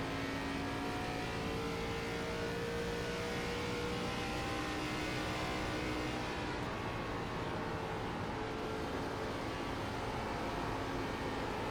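Race car engine in the iRacing sim at Mobility Resort Motegi during an ARCA Menards Series run, a steady loud drone with sustained revving tones throughout, no voices.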